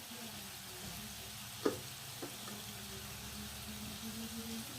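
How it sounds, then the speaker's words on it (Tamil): Prawns frying in hot oil for a spicy prawn biryani, a steady low sizzle running throughout with one brief sharp clatter near the middle, moderately quiet and with no voices. "ஃப்ரைக்கு போட்டாச்சு. இதை ஃப்ரை பண்ணி எடுத்துக்கலாம்."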